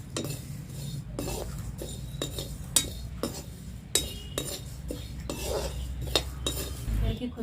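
A spoon clinks and scrapes against a metal pan as whole coriander, ajwain and cumin seeds dry-roast for garlic pickle, with sharp, irregular metallic taps over a low steady hum.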